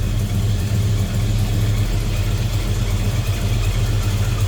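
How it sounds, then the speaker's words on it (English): A 396 big-block V8 in a 1969 Chevrolet Nova idles steadily with a deep, rumbling low throb and a slightly uneven pulse, loud and close, with no voices. "sounds like a big block bad boy"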